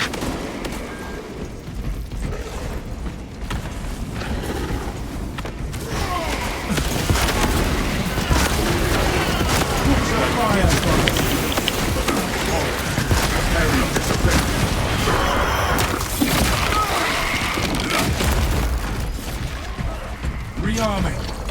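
Cannons fire on a fortress battlefield in a Warhammer 40,000 video game, heavy booms and rolling blasts pounding steadily over a dense wash of game noise, with voices talking throughout.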